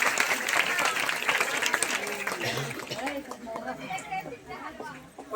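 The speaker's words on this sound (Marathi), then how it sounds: "जोरदार टाळ्या झाल्या पाहिजे मिलिंदाईसाठी" An audience applauds a lucky draw winner at a Paithani saree prize event, a burst of lively clapping that is loud at first and fades after a few seconds, with chatter and a voice continuing over it.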